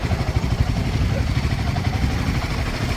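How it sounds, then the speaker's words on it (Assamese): A motorcycle engine rumbles continuously while being ridden, a steady low throbbing drone with faint clatter and wind noise and no clear speech. "এই নিকু বাইকখনতে ঘূৰি আছোঁ"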